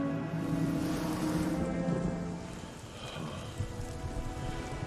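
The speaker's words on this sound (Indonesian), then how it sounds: "harus menghadapi hujan deras yang turun membasahi tubuhnya sepanjang malam" Heavy rain pours steadily through the night, a dense, continuous wash of drops that eases slightly partway through, with no voices.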